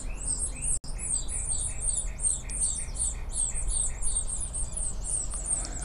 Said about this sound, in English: those birds are calling on their parents to feed them, saying, feed me, feed me, feed me.